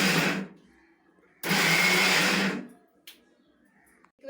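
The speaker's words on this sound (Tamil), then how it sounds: "தேங்காய் போட்டுட்டு நம்ம இப்போ அரைக்க ஸ்டார்ட் பண்ணலாம்" A kitchen mixer grinder whirs as it grinds coconut for coconut milk, running in two loud, steady bursts: a short one, then a longer one of about a second, with quiet between and a faint click afterward.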